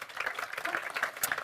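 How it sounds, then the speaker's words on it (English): Audience giving a round of applause for panel speakers at a biophilic design and climate change talk, a light, fairly sparse patter of clapping from a small crowd, moderately faint and steady. "So give him a little round of applause."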